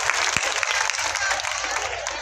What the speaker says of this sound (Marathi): एकदा टाळ्या वाजवा आणि आशीर्वाद त्याला इथूनच द्या.